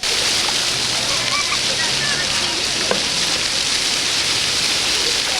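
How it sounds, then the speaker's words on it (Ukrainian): Children splash and bathe in public fountains on a city square in Vinnytsia, giving a steady, loud wash of falling and sloshing water that lasts the whole time, with occasional faint voices mixed into the spray. "У фонтанах на площі Костятина Могилки купаються діти."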